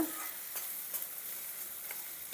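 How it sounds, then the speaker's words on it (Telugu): Ginger garlic paste frying with onions for capsicum masala curry, a soft steady sizzle with a few faint stirring taps, quiet and close, no talking. "అల్లం వెల్లుల్లి పేస్టు వేసి బాగా ఇట్లా తిప్పి ఉల్లిపాయల్లో అది కొద్దిగా వేగిన తర్వాత"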